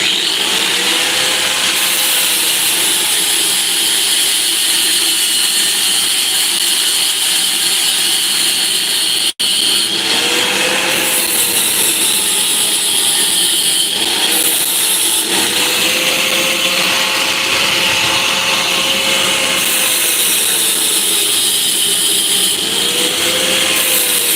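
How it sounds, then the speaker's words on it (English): An angle grinder runs steadily and loud in a home workshop, a continuous high whine with a brief cut-out around the middle and slight shifts in pitch as it loads against the work. "Using the grinder for a second"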